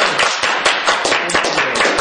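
A conference audience at a Perl programming talk claps loudly, producing rapid, close, sharp claps in a busy, uneven rhythm throughout, with no talking over it.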